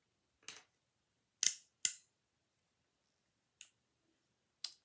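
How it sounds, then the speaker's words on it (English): A miter shear cuts through a wooden chopstick in five crisp, sharp snips, spaced irregularly and heard up close with no one talking. "So I'm going to just cut the chopstick at 6 inches."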